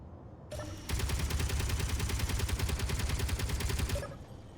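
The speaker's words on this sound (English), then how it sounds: "It fires Gatling ammunition, which is rapid firing." Gatling gun turret in the video game Space Engineers firing a rapid, continuous burst of evenly spaced shots for about three seconds, preceded by a short mechanical spin-up and ending abruptly, loud and close.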